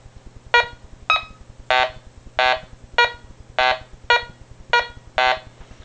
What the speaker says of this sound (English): When you hear that lower tone, that means that it's a little bit more scrap